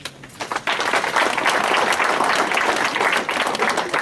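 An audience in a hall bursts into applause at a political gathering of the Génération Déterminée movement: a brief lull, then sustained, dense clapping that holds loud and steady to the end.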